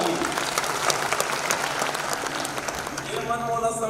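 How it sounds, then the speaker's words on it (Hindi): Loud crowd applause at a Sarva Yadav Samaj community gathering in Chhattisgarh, honoring the local MLA. Dense clapping carries steadily for about three seconds, then thins as a voice starts over the fading claps. "बड़े भैया की एक बार जोरदार ताली।"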